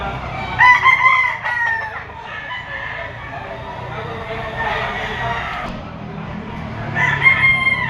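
A Golden Boy Boston gamefowl rooster, three years old, crows and clucks up close in a Lipa City, Batangas yard, its calls rising in bursts over a steady background while someone talks nearby.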